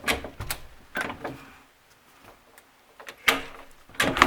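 A front door at a formal entry of a house is unlocked and opened, giving a few close handling clicks and thuds, with quieter gaps between bursts and a louder latch-and-swing at the end.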